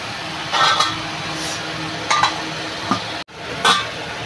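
A lid is set on a cooking pot of shingi fish curry with potatoes and green chillies, giving a few light clanks over a steady simmering sizzle, with a brief hush near the end.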